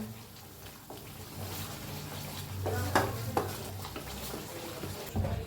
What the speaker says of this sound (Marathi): हलवत भाजून घेऊया मसाला.